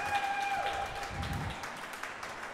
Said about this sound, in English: Crowd enjoying that rally